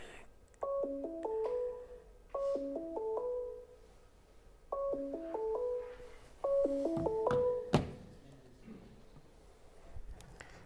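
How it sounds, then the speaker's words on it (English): A mobile phone rings with an incoming call, playing a melodic ringtone in repeated short bursts with brief pauses between them, loud and close in an otherwise quiet room. "We're going to trigger one more phone call since it went to the wrong device."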